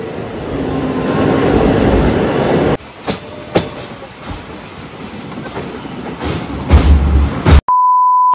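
Interior of a long-distance Indian passenger train bound for Mumbai, with steady rumbling and rhythmic clickety-clack of the wheels, a few sharp knocks, and a clean electronic beep at the very end.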